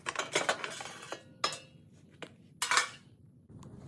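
Metal guard on a John Deere 345 lawn tractor sliding out from its slotted mounts, with a cluster of close metallic clinks and scrapes followed by a few separate sharp clanks, no talking.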